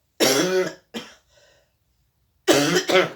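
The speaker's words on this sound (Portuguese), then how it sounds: "me desculpa, mas eu tô com uma tosse" A woman coughs in a few harsh, separate bursts, two close together, then a pause and a final double cough, loud and near.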